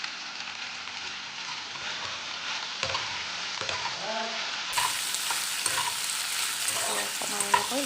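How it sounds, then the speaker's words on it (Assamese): A pan of food for pasta, seasoned with turmeric and salt, frying over low heat while being stirred: a steady close sizzle with repeated scraping and clinking strokes of the spoon, no voices. "অকণমান এনেকৈ লৰাই ভাজি থাকিব লাগিব"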